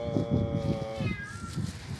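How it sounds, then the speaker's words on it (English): A cat trapped in a sewer meows repeatedly in a string of short, plaintive, echoing cries, fairly close and clear over a low background hum. "Do you hear the cat?"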